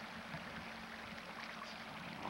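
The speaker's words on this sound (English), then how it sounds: "Beautiful little creek through here." Small creek flowing beside the Congress Trail in Sequoia National Park, a steady broadband rush of running water with no other sounds standing out.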